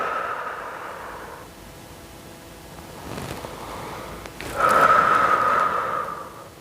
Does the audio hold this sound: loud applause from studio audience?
no